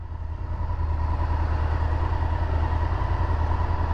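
A 1998 Honda VTR SuperHawk V-twin motorcycle idles steadily up close, a low rhythmic pulsing thrum with light mechanical clatter, holding an even tone throughout with no one speaking.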